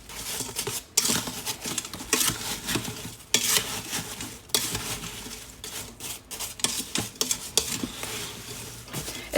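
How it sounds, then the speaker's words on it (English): A spoon stirs apple butter with cinnamon in a pot, making repeated close scraping and clinking strokes against the pot in an uneven rhythm, with soft wet churning between them. "So I'm just gonna give this a quick stir."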